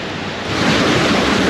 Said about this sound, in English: the water goes over here and goes back down over the larger falls